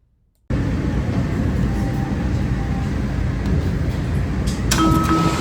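A DC Metro train rumbles loudly and steadily after a sudden start, with a rising roar and faint high squeals near the end.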